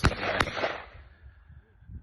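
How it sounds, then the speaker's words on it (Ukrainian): Two sharp shotgun-style blasts crack in quick succession outdoors during anti-drone training that targets flying clay discs, each report followed by a fading rumble and open-air quiet. "Стріляємо по таких тарілках."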